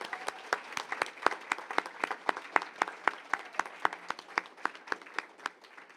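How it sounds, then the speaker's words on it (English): An audience at an elementary school ceremony applauds the students with steady, evenly spaced claps that carry on for several seconds at a moderate, fairly close level. "give us one more round of applause for all these amazing students"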